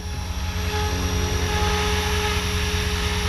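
A Blade 500 3D radio-controlled helicopter, powered by a 3000 mAh Turnigy battery, flies with a steady high-pitched rotor and motor whine, loud and close, with a constant tone throughout.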